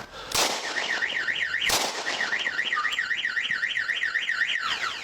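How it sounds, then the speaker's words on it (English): Two sharp, loud gunshots crack close by in a parking lot, followed by a car alarm wailing in a steady, repeating up-and-down pattern. "Shots fired!"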